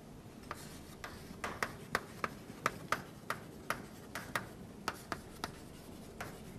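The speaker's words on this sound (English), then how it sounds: "So let us write this down." Pen or marker tapping and writing on a board during a graph algorithms lecture, a string of quiet, sharp ticks at an irregular pace with no talking.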